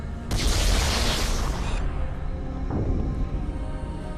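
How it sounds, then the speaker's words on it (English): Loud booming explosions go off in Halo: Combat Evolved, one big blast that rumbles for over a second and then a second, softer burst that trails into low rumble. "Lots of explosions"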